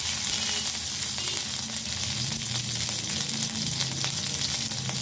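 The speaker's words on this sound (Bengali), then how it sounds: "ওই তেলের মধ্যেই আমি দিয়ে দিচ্ছি তেজপাতা আর কাঁচা লঙ্কা ফোড়ন।" Bay leaves and green chilies crackle in hot oil left over from frying bottle gourd kofta, a loud, dense, steady sizzle filling the whole stretch with no voices.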